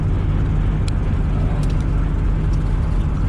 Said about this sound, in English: It's a little challenging driving this trailer in here with all this traffic